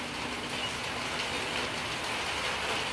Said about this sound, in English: It's raining in paradise.